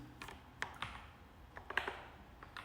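Typing on a slightly glitchy computer keyboard while writing code, a few separate clusters of key clicks spread across a short stretch, close and fairly quiet.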